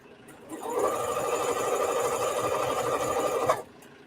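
A sewing machine stitches elastic casing into a men's shirt being remade into a women's off-the-shoulder top, running in one steady, continuous burst of about three seconds before stopping abruptly.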